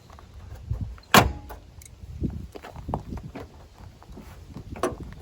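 The hood of a Volkswagen New Beetle slams down once, sharp and close, but fails to latch. Softer knocks and footsteps follow.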